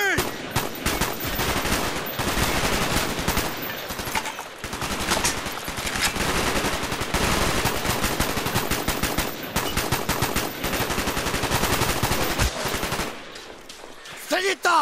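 Sustained machine gun fire in Call of Duty Black Ops, dense rapid bursts chattering almost nonstop, loud and close, with short breaks and a final few shots as it tapers off.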